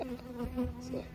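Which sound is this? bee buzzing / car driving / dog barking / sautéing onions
bee buzzing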